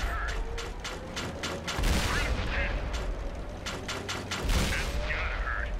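AMX 13 90 autoloading tank cannon firing in World of Tanks on Xbox One, a rapid series of repeated booming shots over a continuous rumbling mechanical background.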